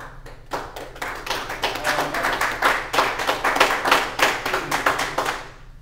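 Audience at a Scott County, Iowa board meeting claps in loud, fairly rhythmic, closely spaced bursts that swell and then fade, with no talking over it.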